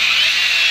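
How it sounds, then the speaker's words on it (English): A power drill bores around a polyurethane subframe bushing on a BMW E46, giving a steady, loud, high-pitched whine that holds constant for the whole short burst with no talking. "get a drill, and we're going to drill around this here."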